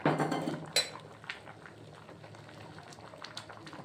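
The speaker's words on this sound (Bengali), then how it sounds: "ঢাকা দিয়ে রেখে দেবো কিছুক্ষণ ফুটুক।" Vegetarian khichuri bubbles in a covered pot, soft and low, starting with a few clinks of a lid or utensil against the pot before settling into a quiet, steady simmer.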